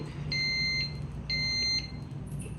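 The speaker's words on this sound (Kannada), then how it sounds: "ಬೀಪ್ ಸೌಂಡ್ ಬಂದು ರೈಸ್ ರೆಡಿ ಆಗಿರುತ್ತೆ" Two short electronic beeps from an electric cooker signalling rice is ready, evenly spaced and clear, over a low background hum.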